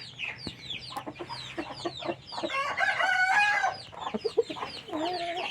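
Close Burmese gamecock rooster from Mae Sariang clucks and squawks in irregular bursts, with a short crow in the middle, over quiet background.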